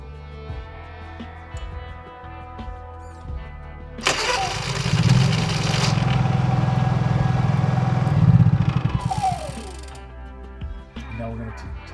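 A Honda EU3000iS inverter generator is cranked with a momentary choke and catches, then runs at a loud, steady roar close by for about four seconds before dropping back to a quieter hum.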